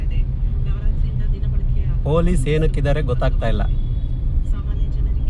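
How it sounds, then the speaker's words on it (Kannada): Bumper-to-bumper traffic jam on the Marathahalli to Kadubeesanahalli road: a constant low rumble of idling and creeping vehicles throughout, with a person speaking briefly over it in the middle. "Marathahalli to ಕಾಡುಬೀಸನಹಳ್ಳಿ traffic jam every day, bumper to bumper 5 kilometre"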